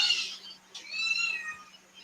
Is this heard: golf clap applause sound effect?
no